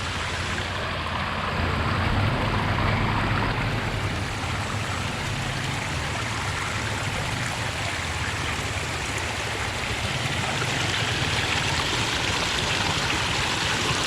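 Cold spring water runs steadily in Spili village, Crete, a continuous close rushing flow with no talk over it.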